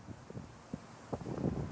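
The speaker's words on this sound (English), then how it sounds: "it's very, very windy" Low, blustery rumble of wind buffeting a microphone lakeside at Walt Disney World, gusting unevenly and swelling louder toward the end, with no voices.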